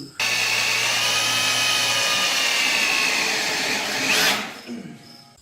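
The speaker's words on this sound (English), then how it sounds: "Now I'm gonna make my holes. I'm gonna drill it through." A power drill runs loud and steady for about four seconds with a high whine, drilling holes through a metal bar, then winds down and stops.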